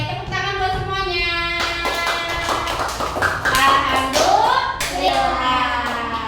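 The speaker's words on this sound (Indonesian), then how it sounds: "tepuk tangan buat semuanya" Children in a classroom clapping hands together for everyone, rhythmic patterned claps with a teacher's voice singing and talking over them throughout.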